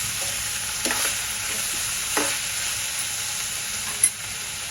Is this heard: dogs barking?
no